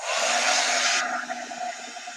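A heat gun blows hot air to dry ink on a Chalk Couture project, a loud airy rush for about a second before it drops to a softer steady hum.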